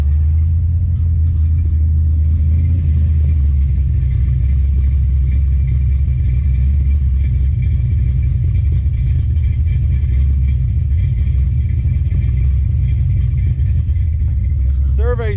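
A 1970 Plymouth Duster 340 V8 on a temporary carburetor idles low and rough, running rich, with a steady loud rumble close by throughout and no talk over it.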